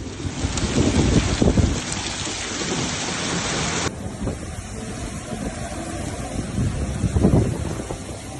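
Heavy wind and rain rush steadily during a sudden extreme storm in Yanbu, Saudi Arabia, with thunder rumbling low and gusts swelling and easing over several seconds.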